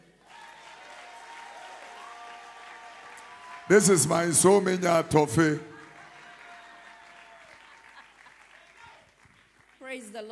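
Audience members at a church conference break into a short burst of clapping lasting about two seconds, set between spoken words over a low background hum.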